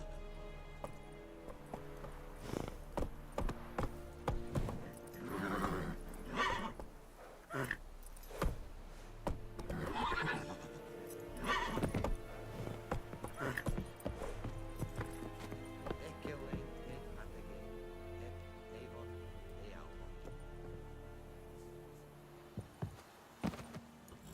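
Roach, Geralt's horse in The Witcher 3 video game, clip-clops along at a trot, the steady hoofbeats close and clear over an ambient game backdrop with scattered louder knocks.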